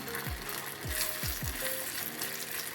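Amaranth (rajgira) roasts in hot ghee for a kheer, giving a steady, close crackling sizzle with a few soft stirring touches and no voices.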